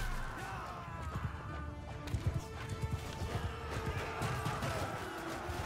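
A horse gallops in the video game Mount & Blade II: Bannerlord, fast rhythmic hoofbeats over rumbling battle ambience, with a few heavier thuds and snorts in the middle.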